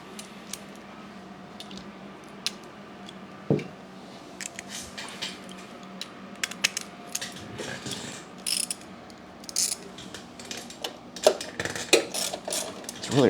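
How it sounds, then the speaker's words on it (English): A socket ratchet loosens a 10mm bolt on a Briggs & Stratton Vanguard 18 HP engine, giving scattered quiet clicking and metallic ticks close by in a shop, with short bursts of ratcheting spread across the clip. "Let's stick a socket on that 10mm because there's a wire loom there."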